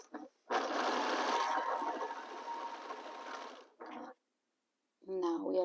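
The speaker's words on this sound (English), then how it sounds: "I line up my fabrics and we are going to sew with 1/4 of an inch seam allowance" A sewing machine runs steadily for about three seconds, stitching pieces of fabric together with a quarter-inch seam, then gives a short second burst before a voice speaks briefly at the end.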